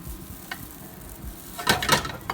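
Chow mein noodles with seafood soy sauce and oyster sauce being stirred in a hot pan, a faint sizzle under scattered scrapes that build into a louder burst of stirring and clatter near the end.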